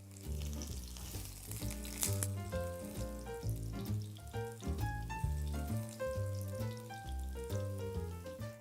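Beef fillet steaks frying in butter in a pan, a steady soft sizzle under a backing of music, with no talk.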